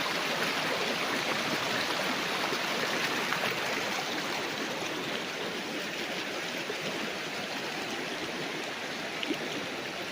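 A river flows beside a farm lot in Majayjay, Laguna, making a steady, broad rushing of water that runs on without a break and with no voices.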